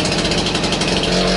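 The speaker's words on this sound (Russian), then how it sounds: "Чё, трактор пошёл" An old tractor's engine, started with a pony-motor starter, runs loud and close with a steady throbbing mechanical drone and no voices over it.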